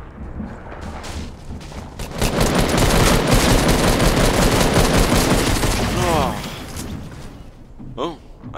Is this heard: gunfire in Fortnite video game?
yes